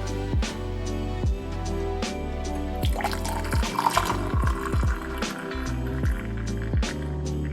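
Black hot chocolate being poured carefully from a stovetop pot into a cup, a continuous liquid pour with splashing and dripping, close and moderately loud, with no talking.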